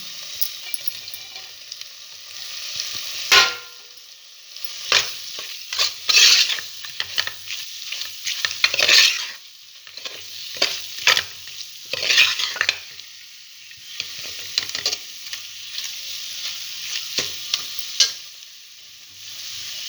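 Paneer being stirred and sautéed in masala for a pressure-cooker paneer biryani, with a soft continuous sizzle broken by repeated scraping and clinking of a spoon against the pan, close up and without talk.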